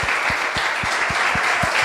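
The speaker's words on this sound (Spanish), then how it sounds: "¿Cuántos le dan un aplauso al Señor?" A church congregation clapping together in a steady, rhythmic beat, about four claps per second, dense and loud in a large room with no talking over it.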